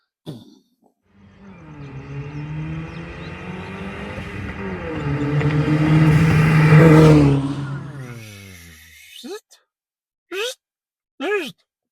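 A turbocharged Hyundai Getz engine on a test drive revs up in a long rising pull with gear whine and turbo whoosh, growing loud before dropping off, followed by brief voice sounds.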